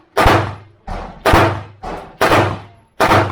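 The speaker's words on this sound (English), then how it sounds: "First shot should be the" Sharp, booming reports at an outdoor shooting range, about six of them in a steady series under a second apart, each ringing out with a short decaying echo, consistent with .45 ACP blank rounds being fired.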